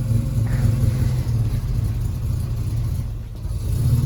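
A Mini 850 engine runs close by with a steady low rumble, rising and falling a little as the choke is adjusted, held at a fast idle with a brief dip near the end.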